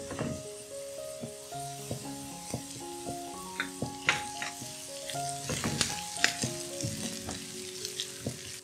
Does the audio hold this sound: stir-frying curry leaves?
yes